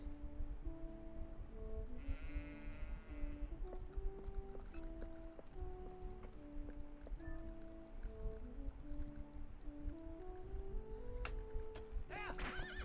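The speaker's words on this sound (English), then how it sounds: "All right, let's round up some sheep." Sheep bleating in a video game, faint and intermittent under steady background game music with melodic tones throughout.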